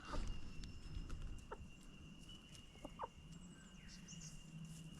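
Chickens cluck softly in short scattered calls at a farm, faint and a little distant over a quiet outdoor background, with no talking.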